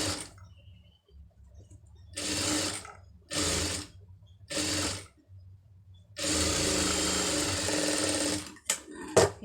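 A tailor's sewing machine joins blouse pieces in close, loud whirring bursts. Three short runs are followed by one longer continuous run, with quiet pauses between them and no talking.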